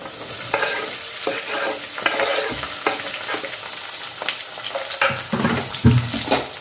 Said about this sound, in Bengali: কাঁচা লঙ্কাটাও ভালো করে ভেজে নেব